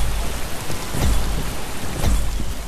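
Steady rain in the VR game Boiling Steel, a loud continuous wash of hiss with low rumbling swells underneath, constant throughout with no voices.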